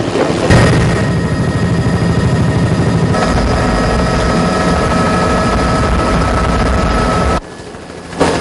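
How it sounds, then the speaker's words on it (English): A Sri Lanka Air Force helicopter at a Vesak zone opening ceremony gives a loud, continuous rotor and engine roar that drops away abruptly near the end. "employing a special helicopter of the Sri Lanka Air Force."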